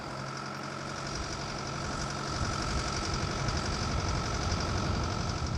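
A Jarraff all-terrain tree trimmer's engine running steadily, a continuous close mechanical drone with a knocking texture that grows slightly louder partway through.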